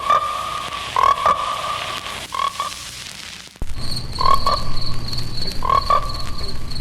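Frogs croak in a film trailer for Frogs, loud and close. The calls come in repeated paired bursts over a humming pond chorus, and the background shifts partway through as another layer of calls and noise comes in.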